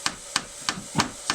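Five sharp ball peen hammer strikes ring out at an even, steady rhythm, close up, peening over the end of a knife tang, with faint hiss between the blows.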